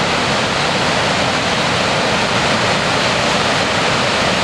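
Loud, continuous rushing of the Boulder River near Big Timber, Montana, pouring out from underground, a steady roar close by with no voices.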